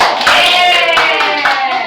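An audience in a madrasa classroom presentation claps hands, a loud, dense burst of clapping running throughout, with a few louder swells and no talk over it.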